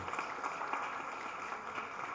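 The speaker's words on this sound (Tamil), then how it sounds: "கைத்தட்டுங்க, அருமையான பாட்டு." Audience applause at a film pre-release event for Draupathi 2, with dense, steady clapping of a large crowd filling the whole stretch without a break, fairly close and even in loudness.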